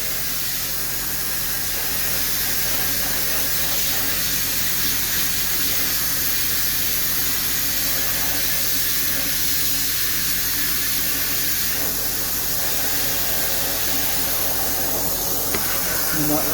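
An SBC350F blast cabinet nozzle blasts rust with a loud, steady, broadband hiss of rushing air and grit that stays constant and close throughout, while someone talks faintly underneath.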